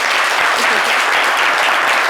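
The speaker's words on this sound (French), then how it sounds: "Bonnie Myriam, qu'on va applaudir, s'il vous plaît." A studio audience at a live talk-show taping bursts into loud, dense applause for a guest, a continuous close wash of clapping throughout with no talking.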